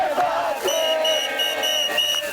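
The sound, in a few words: protest crowd chanting slogans in Tel Aviv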